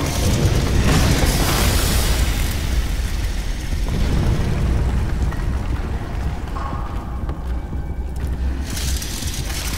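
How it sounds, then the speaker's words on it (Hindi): A gas grenade detonates in Amnesia: The Bunker, a heavy, roaring blast followed by a long, loud rumbling hiss that rolls on for several seconds before slowly thinning out. "Gas grenade."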